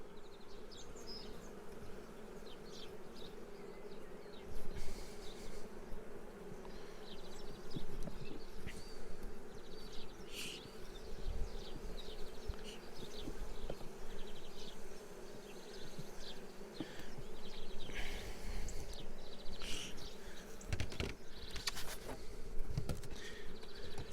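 Honey bees buzz inside an open hive during a spring brood inspection, a dense steady hum with occasional louder passes of individual bees close by, and no voices.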